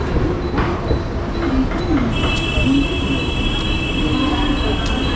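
A commuter train in Mumbai, India rumbles past at close range with a steady low roar, high metallic squeals from the wheels, and faint voices in the background.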